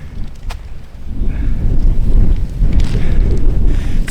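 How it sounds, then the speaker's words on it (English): Strong wind buffets the microphone in a forest clearing, a steady low roar that swells after the first second and stays loud, with faint rustling and a couple of small knocks. "It's a little bit windy."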